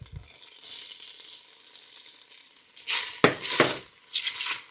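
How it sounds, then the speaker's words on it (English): Chopped onions go into a pot on medium-low heat for pot roast, giving a soft steady sizzle that swells into louder crackling frying bursts near the end. "And I'm going to add my onion."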